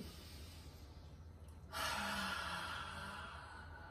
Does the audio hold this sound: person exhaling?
yes